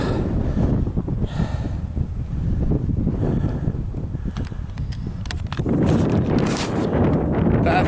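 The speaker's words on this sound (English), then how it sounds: "it's a little bit windier than what was forecast, so I probably won't film myself checking my zero because it's going to be a challenge in this breeze" Gusty wind blows outdoors in the open countryside, buffeting the microphone with a steady low rumble that swells louder toward the end, with no speech.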